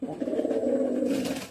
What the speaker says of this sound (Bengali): এটা বিক্রি করা এক জোড়া কবুতর